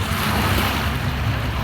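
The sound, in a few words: sea waves at the seaside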